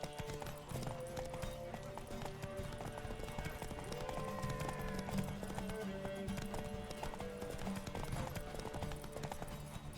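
Horse galloping in The Witcher 3: rapid, continuous clip-clop hoofbeats at a steady rhythm, with game music and ambience underneath throughout.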